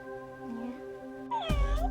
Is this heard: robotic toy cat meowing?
yes